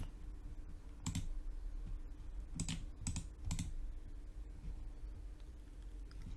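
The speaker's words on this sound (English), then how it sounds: "So I'm going to right click on opening times, and it gives me an option for insert." A few soft, sharp mouse clicks at a computer while working in Microsoft Word, spaced irregularly over a low steady room hum.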